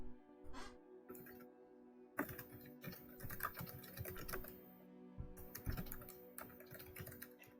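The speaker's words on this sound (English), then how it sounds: "Somebody's And- typing." Fingers type on a computer keyboard during a tabletop game session, producing a fast, irregular patter of close clicks in bursts with brief pauses, over a quiet room hum.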